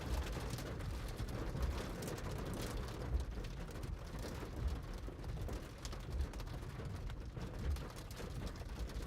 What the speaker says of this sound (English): You can hear that wind now, huh?